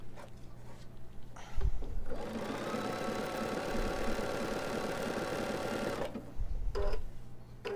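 A Bernina 780 sewing machine stitches steadily for about four seconds at close range, a fast even whir of needle strokes, with brief quieter pauses and small handling knocks on either side.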